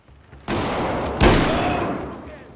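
A sudden loud burst of gunfire in Battlefield 4's Singapore level, then a second sharp blast that rings out and decays into a noisy rumble.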